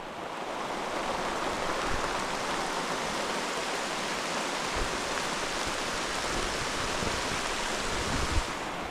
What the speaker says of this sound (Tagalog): Umuulan, umaaraw.